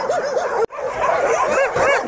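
A shelter dog barks and whines in rapid, excited yelps, with high pitched, wavering cries close to the listener and a brief dropout partway through; no speech alongside.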